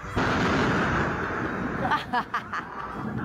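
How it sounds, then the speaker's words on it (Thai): A huge, sustained blast of thunder from a lightning strike crashes in and rumbles on, followed by a few sharper cracking bursts near the end. "ตอนแรกอ่ะไม่คิดว่าเป็นเสียงฟ้าผ่านึกว่าเป็นเสียงระเบิด"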